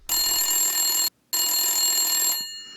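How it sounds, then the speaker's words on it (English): A car phone rings loudly and close in two bright electronic trill bursts with a short gap between them, then the second ring trails off. "His car phone rang."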